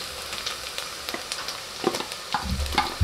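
Ginger and garlic sizzle and crackle together in a hot pan, a steady fry with scattered pops and a few louder stirring scrapes toward the end.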